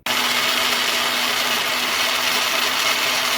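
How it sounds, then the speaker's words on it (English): A blender or food processor grinds garlic, a small onion and a pinch of ground coriander into a paste. It gives a steady, loud motor whir that runs without a break from start to finish, with no talk. "Go into food processor or a blender."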